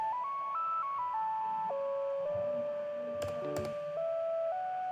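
A lone synth lead from a Yamaha Montage plays a slow melody of sustained, smooth tones, with a few soft clicks and percussive taps sounding briefly underneath.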